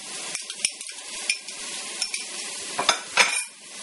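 Ginger garlic paste goes into a hot pan for a chicken dish, sizzling softly while a utensil scrapes and clinks against the pan in irregular stirring strokes, close and fairly quiet.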